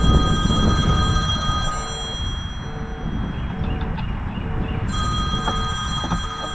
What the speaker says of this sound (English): back before the phone rang